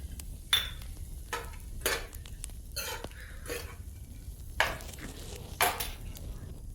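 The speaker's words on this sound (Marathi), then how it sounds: "ह्याला आता चांगलं मिक्स करायचं आपण" A cheese corn mixture seasoned with chaat masala is stirred in a pan, giving faint, scattered scraping strokes of a spoon against metal, separated by quiet pauses.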